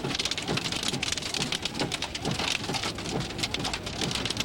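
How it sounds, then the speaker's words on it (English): Dense pattering of marble-sized hail drums steadily on a car nearby, a constant rapid clatter with no talking. "Pretty small hail here."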